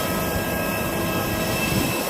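A passenger airplane at an airport during boarding for a flight to Delhi. A steady, loud, broadband jet engine roar runs throughout with no break and no talk.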